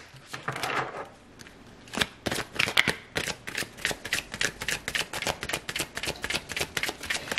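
Romance Angel oracle cards being shuffled by hand in a rapid run of crisp riffling flicks, close and fairly loud, before a card is drawn.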